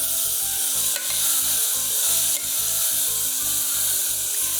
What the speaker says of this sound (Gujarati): આમાં થોડાક વટાણા એડ કરી દઉં થોડા ઉપરથી વઘારમાં નાખશું અને હવે આપણે મિક્સ કરી દેવાનું છે